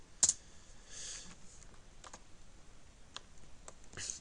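Keys tapped on a computer keyboard while entering a command, a sparse run of light, close clicks with pauses between them in a quiet room.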